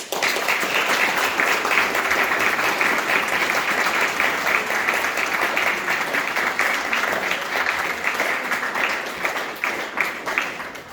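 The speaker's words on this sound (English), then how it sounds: "So please give Isaac and Jacob a big clap." Sustained applause from a graduation ceremony audience fills the room, a dense steady wash of many hands clapping that continues for about eleven seconds and tapers slightly toward the end.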